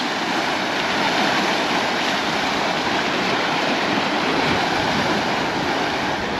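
Sea waves at Costa de la Calma in Mallorca crash and splash over a bridge, making a continuous loud roar of surf and spray with wind noise and no pauses.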